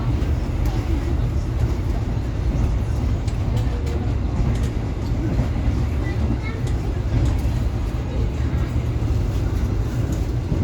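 The Blambangan Ekspres executive train runs through a station without stopping, a steady loud rolling roar with rumbling wheels and faint clacks throughout.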